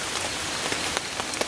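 Steady rain patters on a tarp strung over a hammock during a bikepacking camp, a dense close hiss broken by a few louder individual drops.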